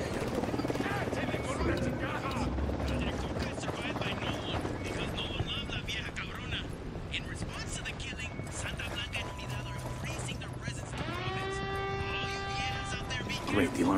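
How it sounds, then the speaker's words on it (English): A rising, wailing alarm siren in the video game Ghost Recon Wildlands sweeps upward near the end, cutting through dense gunfire, helicopter rumble and overlapping radio chatter. "Great, the alarm's all we need."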